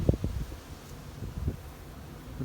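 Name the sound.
wind blowing in an open pasture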